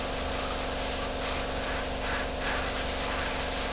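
Steady close hiss of an airbrush spraying light dusting coats of paint on a 1/72 Revell Lancaster model, continuous and even, with soft swells as the flow eases slightly, no voices.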